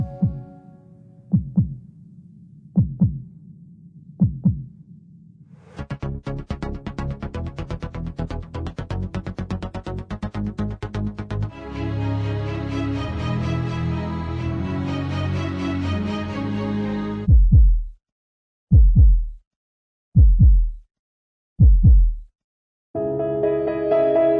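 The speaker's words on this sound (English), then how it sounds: "The Audi heartbeat is very important in this scene." A heartbeat sound effect made for Audi opens with steady thumping pulses, gives way to a dense mechanical and musical passage, then returns as loud, widely spaced heavy beats standing alone near the end.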